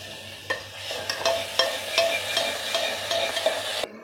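Onions, green chillies and curry leaves sizzle steadily in hot oil in a pan, with sharp scraping clicks from a stirring utensil about every half second, close and fairly loud with no talking.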